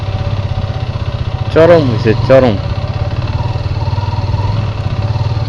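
A Karizma motorcycle engine drones on the move, a steady low pulsing throb throughout, while a voice speaks briefly over it midway.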